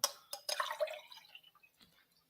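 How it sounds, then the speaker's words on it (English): A glass of water being drunk indoors: a few sharp clinks and small liquid sloshes and drips, close and fairly quiet, fading into near silence. "let me just drink a glass of water"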